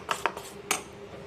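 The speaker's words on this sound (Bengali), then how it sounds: "সেই মুগ ডালটার মধ্যে জিরে আর হলুদ দিয়ে ভালো করে আমি এভাবে করে একটু ফেটিয়ে নেব।" Faint metal clinks of a utensil against a bowl while mung dal batter is beaten with cumin and turmeric, three light taps in quiet surroundings.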